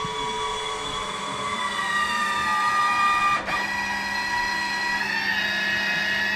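Race jacks lifting the rear of a Turbo Hayabusa give a steady, strained mechanical whine with stacked tonal harmonics. The pitch climbs gradually under load, with a short dip partway through, and no one speaks.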